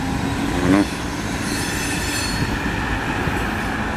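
A CP freight train rolls over the Ontario Street bridge in Montreal's Hochelaga sector, giving a steady broad rumble of rail cars with a brief wheel squeal early on.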